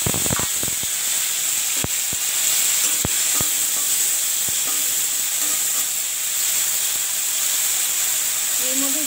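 Chopped tomatoes and jujubes hit hot oil seasoned with panch phoron in a kadai, giving a steady close sizzle and hiss with scattered sharp clicks and stirring scrapes throughout.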